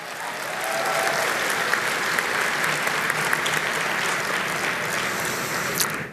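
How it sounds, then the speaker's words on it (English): Sustained applause from a large audience at a political party convention, a dense steady wash of many hands clapping that holds evenly throughout with no talk over it. "I'd invite you to give a round of applause to all the people who have organized this convention for us"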